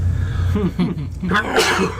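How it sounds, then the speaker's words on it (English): A single sharp sneeze bursts out near the mic at a table of players during a live Dungeons & Dragons session, brief and loud, with a short breathy intake before it. "Achoo."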